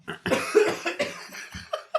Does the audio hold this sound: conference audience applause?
no